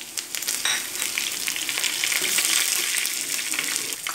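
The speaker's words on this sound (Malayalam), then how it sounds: "അപ്പോൾ നമുക്ക് ഉണക്കമുളകും കറിവേപ്പിലയും ഇതിലേക്ക് ഇടാം." Dried red chillies and curry leaves hitting hot oil in a pan, producing a loud, dense, continuous sizzle with crackling bursts, close and alone without talk.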